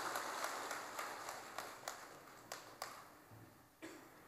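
A gathered congregation gives a round of applause at the inauguration of Quan Âm temple in Tân An after seven years of reconstruction, with faint, distant clapping and regular sharper claps standing out from the background.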